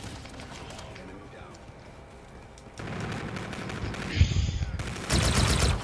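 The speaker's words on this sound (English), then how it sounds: "I gotta stop using these loud guns" Loud guns firing in the Call of Duty: Infinite Warfare video game, bursts of rapid automatic fire that grow louder and denser toward the end, with a voice talking over parts of it.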